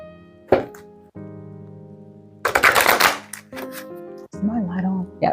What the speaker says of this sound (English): Let me move these cards down.